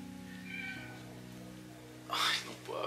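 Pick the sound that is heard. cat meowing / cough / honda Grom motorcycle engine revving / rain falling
cat meowing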